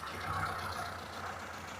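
A car engine idles steadily and close by during a diagnosis with a vacuum transducer; the engine is in condemned condition. The broadband rumble holds constant throughout with no talk.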